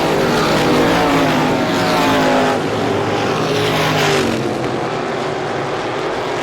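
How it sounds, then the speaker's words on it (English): A pack of 350 Supermodified race cars roars around an oval speedway on the final lap of a night race, engines loud and layered, swelling and easing as they pass. "final trip around in the final race of the year for the 350 Supermodifieds"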